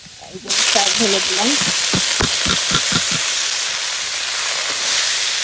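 Greens hit garlic frying in hot mustard oil with a loud burst of sizzling, then a steady, close crackling hiss and a few scraping stirs that carry on without any talk.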